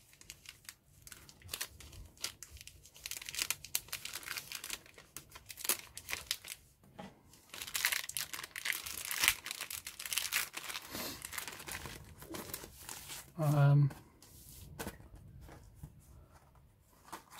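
Thin moulded plastic card Zimmerit sheet from a Hobbyboss 1/35 Tiger II kit crinkles and rustles close by as it is handled, in irregular bursts with one louder crackle near the end.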